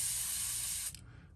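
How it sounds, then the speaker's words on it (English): An airbrush sprays paint in a test burst before painting a fishing lure: a close, steady hiss for about a second that cuts off abruptly, leaving quiet room tone. "We'll go ahead and test this thing out, make sure it's spraying the way I want it to."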